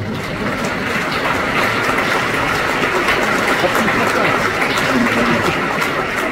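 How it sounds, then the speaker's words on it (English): Sustained applause from a concert audience at Circus Krone in Munich during a show, a dense steady wash of clapping with crowd noise running throughout at a constant loud level. "should we give them a round of applause to the ladies?"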